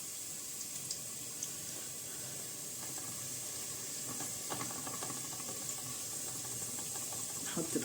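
Garlic hisses and sizzles in a hot pan just before liver goes in, a steady close frying hiss with small crackles and pops throughout.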